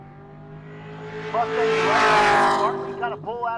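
Two stick-shift C5 fifth-generation Corvettes launch in a drag race at Pueblo Motorsports Park, their engines climbing hard in pitch over a few seconds. Quick shift breaks cut the rise, and it all builds loud and close.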